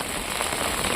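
Heavy rain pours down onto surfaces, a dense, loud and continuous hiss of drops with no pauses and no voices.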